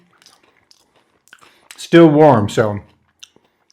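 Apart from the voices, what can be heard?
biting and chewing a crunchy Cadbury Mini Egg cookie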